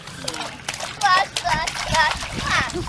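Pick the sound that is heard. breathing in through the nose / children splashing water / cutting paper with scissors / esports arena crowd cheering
children splashing water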